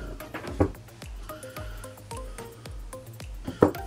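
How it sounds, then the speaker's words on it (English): Condensed milk glugs and plops from a tin into an ice cream mix, making a series of thick, wet squelches and drips up close, with a couple of louder splats. "So I'm going to pop in, turn it around, a tin of condensed milk."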